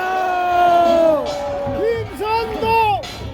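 A crowd at an outdoor political rally in front of a Seoul courthouse cheers and shouts, with rising and falling voices and whoops swelling and fading, loud and near.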